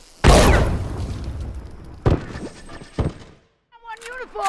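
A bomb blasts loudly and close in The Last of Us multiplayer, a broad burst that decays over a second, followed by two sharper thuds and then brief voices shouting.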